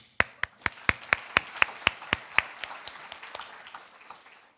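About a dozen slow, distinct claps ring out at a dentistry declaration ceremony, crisp and evenly spaced, growing slightly fainter and more scattered toward the end.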